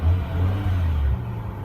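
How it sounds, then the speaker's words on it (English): A 2006 Alpine White BMW M5 gives a short, deep, rumbling rev up close for about a second, then drops back to a steady low idle, with no talking. "we'll go ahead and just rev the engine a tiny bit"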